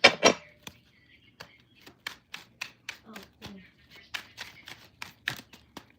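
Tarot cards being shuffled by hand, a sharp riffle at the start followed by a series of quick, close taps and flicks of the deck in an uneven rhythm, with no talk.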